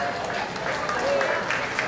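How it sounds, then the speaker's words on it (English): An outdoor picnic crowd gives a steady round of applause for a young volunteer, a continuous wash of clapping with faint voices mixed in, moderately loud and somewhat distant. "let's give him a round of applause for being here today"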